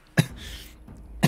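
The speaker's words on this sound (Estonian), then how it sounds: "siis ma mingi köhin vahepeal" Two sharp, close coughs from a hoarse-voiced person, one near the start and another at the end, with a faint breathy gap between them.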